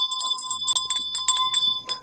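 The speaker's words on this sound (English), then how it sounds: "Let's ring that bell." A handheld bell rings repeatedly in quick, bright strikes with a sustained metallic shimmer, loud and close, with no talking over it.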